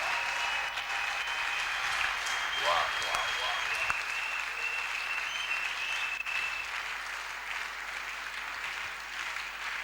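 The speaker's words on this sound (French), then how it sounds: "Give the Lord a mighty hand of praise." A church congregation applauds steadily at a Holy Spirit conference service, a dense, continuous wash of clapping with crowd noise that holds loud throughout, while voices carry faintly underneath.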